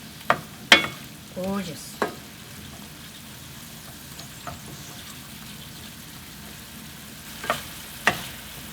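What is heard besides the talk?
stir-frying garlic scapes in sauce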